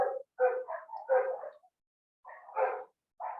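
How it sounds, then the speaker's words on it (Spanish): Several dogs bark in short, loud bursts, a quick flurry of yaps and barks followed by a pause and then more barking, heard close and alone without speech. "están ladrando mis perros."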